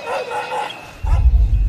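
An airport drug detection dog gives a few short barks among luggage, following a softer stretch where a voice speaks quietly, then louder low thumps and movement noise close by.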